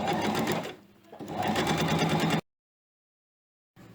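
A sewing machine stitches a trouser zipper fly in two loud, close bursts of rapid mechanical whirring with a short pause between, then stops and falls silent before a brief restart at the end.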